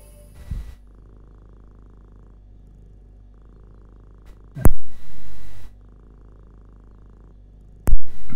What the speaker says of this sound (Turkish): Kedimiz burada.